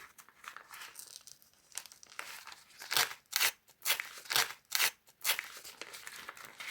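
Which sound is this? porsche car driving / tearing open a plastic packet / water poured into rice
tearing open a plastic packet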